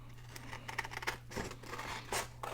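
Scissors trim a paper envelope in a few quick, close snips and crisp cuts, with a faint low hum underneath.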